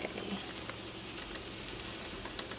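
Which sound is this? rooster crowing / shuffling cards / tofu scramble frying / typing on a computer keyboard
tofu scramble frying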